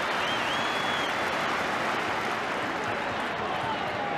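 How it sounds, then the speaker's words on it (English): A big stadium crowd roars and cheers at a 1982 rugby league Test between Australia and Great Britain, a dense, steady wall of noise with applause running through the whole stretch. "The crowd are roaring, the crowd are cheering."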